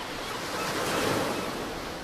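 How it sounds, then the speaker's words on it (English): A seashell held to the ear gives a soft, steady sea-like rushing hiss, an even whoosh of surf with no voices. "I'm listening into this shell to see if I can hear the sea."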